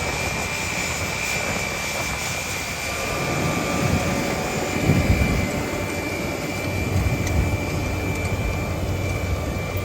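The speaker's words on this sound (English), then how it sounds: "So Tom there's not turning it, he's got it all set so the tractor's turning itself." A self-steering tractor pulling a seed drill while planting wheat drones steadily, a broad rumbling roar that swells slightly midway, with a faint high whine over it and no talking.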